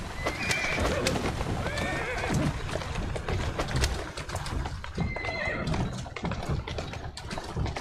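A horse in the video game Assassin's Creed Syndicate whinnies several times over brisk, steady hoof clip-clops on a street, close and loud throughout.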